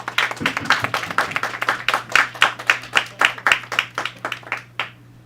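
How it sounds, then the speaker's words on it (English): An audience claps in a fairly even, spaced rhythm before a speaker takes the stage, the individual claps distinct and tapering to silence at the end. "Clap it up."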